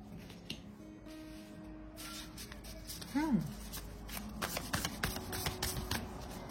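Tarot cards are shuffled and one is drawn, giving soft papery riffles and slides with a brief flick of a card pulled from the deck, heard close up.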